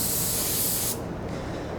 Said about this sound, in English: I've got my little mini spray gun loaded up with some black paint. So let's start spraying this thing